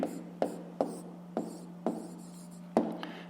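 Pen strokes on paper while working a grade 5 math exercise, a series of about seven short scratchy marks in an irregular rhythm, close and fairly quiet over a faint steady hum.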